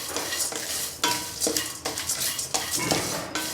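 Spoon scraping and stirring spices as they dry-roast in a pan for homemade masala powder, a steady run of close, rhythmic scrapes and clinks over a soft sizzle, with no talking.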